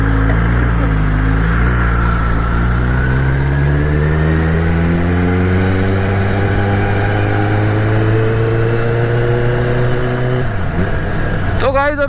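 A motorcycle engine warming up before a long ride, idling loud and close, then revving so its pitch climbs steadily, with a brief dip near the end.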